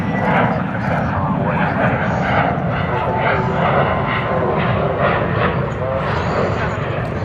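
A Cargolux cargo aircraft departing Dallas/Fort Worth Airport for Luxembourg gives a loud, sustained jet engine roar that swells and eases slightly, with voices over it.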